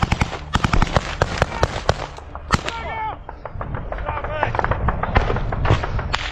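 Rapid sharp gunfire cracks and bangs in a trench battle, with a heavy explosive blast amid close shouting voices and continuing shots.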